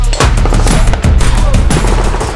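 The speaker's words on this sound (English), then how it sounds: "it fires like a normal firearm, and then when you let go of the trigger, you release that trigger, it actually is designed to fire a second shot" Rapid pairs of loud gunshots from a firearm fitted with a binary trigger at an outdoor range day, shots cracking back to back in quick double taps across the whole stretch with no pauses.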